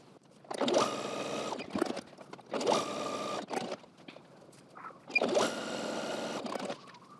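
A sewing machine stay-stitches coat fabric in three steady bursts of rapid, even whirring, each lasting about a second, with short quiet pauses between runs.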